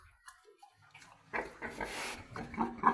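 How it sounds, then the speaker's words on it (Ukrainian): Soft grunting and snuffling of small piglets lying under a heat lamp close by, with faint rustling and squeaks, no talking. "Поросятка лежать під лампочкою, не трогаю їх, не трогаю."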